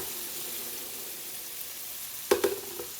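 Chicken and broccoli caramelizing in a wok give a soft, steady sizzle, with a couple of sharp metallic clanks and a clatter near the end as the pan is handled.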